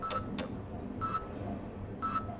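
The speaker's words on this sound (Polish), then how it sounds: "Coś mi piko." An electronic device gives short high beeps, three or four spaced bursts over a couple of seconds, faint against a low background rumble.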